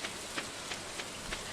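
Rain falls in the Stardew Valley video game, a soft, even hiss of gentle patter with faint recurring taps, quiet and continuous for a moment without talk.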